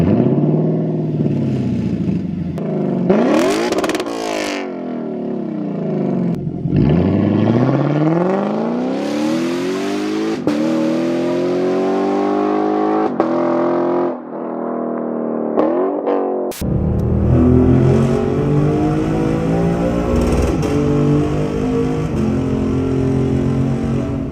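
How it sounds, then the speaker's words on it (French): Naturally aspirated V8 of a Lexus LC500 revving hard and loud, with repeated sweeping climbs and drops in pitch, sharp blips and a rumbling idle stretch, heard close and with no talk over it. "Une version V8 atmosphérique qui est absolument incroyable avec un son divin."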